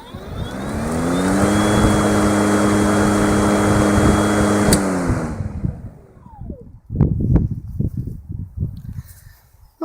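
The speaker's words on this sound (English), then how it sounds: "some people said they wanted to hear the sound of the motor spinning up and spinning down" A 36V brushless lawnmower motor winds up to a steady whine, holds it for several seconds, then cuts off and spins down. The close, loud motor tone gives way to scattered clicks and handling knocks once it stops.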